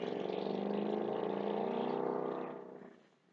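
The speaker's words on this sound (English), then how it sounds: "My neighbor has a motorcycle that he likes to rev up and ride at night." A neighbour's motorcycle revs at night: a steady, throaty engine drone with a rough rumble holds for over two seconds, then fades away as the bike pulls off. No one speaks.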